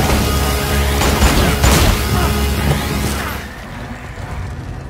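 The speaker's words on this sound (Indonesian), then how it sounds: "Sehingga Darsa membuat ledakan supaya mereka bisa keluar." An explosion blasting an exit, a loud broadband roar with crackling debris and rumbling impacts over several seconds, then fading into a quieter low tail.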